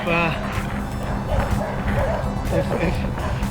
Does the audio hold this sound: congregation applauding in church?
no